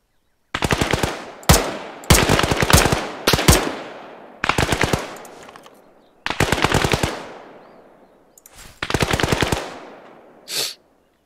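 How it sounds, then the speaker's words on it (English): Sustained bursts of SAW light machine gun fire in Arma 3 combat, long rapid strings of shots separated by short pauses, loud and close, with no talk. "It's my freaking saw gunner going on"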